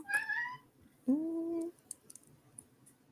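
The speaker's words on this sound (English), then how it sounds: "This Weird. cat just jumped on the back of my chair" A cat meows twice after jumping onto the back of a chair indoors, the first call bright and wavering, the second lower and drawn out, followed by faint clicks and rustles.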